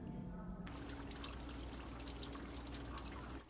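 Water running steadily from a lionhead fountain in a park in Abita Springs, Louisiana, fed by an artesian well, a continuous trickling and splashing that stays even and close throughout.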